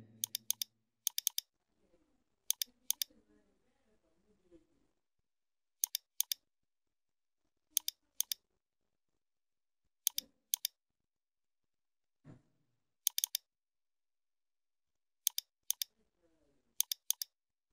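Computer mouse clicking while drawing in AutoCAD 2020, sharp paired clicks repeated at intervals of a second or two over a quiet background, with faint sounds between them.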